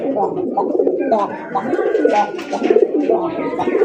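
Deep, throaty cooing of a red Golla pigeon repeats in rolling phrases close by, loud and continuous with a low rumbling quality.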